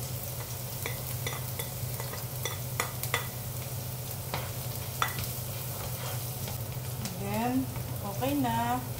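Onion and garlic sauté in a pan for stir-fried water spinach with shrimp paste, giving a steady low sizzle with scattered clicks and scrapes of stirring, while a voice briefly speaks near the end.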